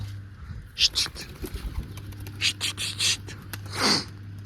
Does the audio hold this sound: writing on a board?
no